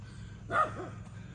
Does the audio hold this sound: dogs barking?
yes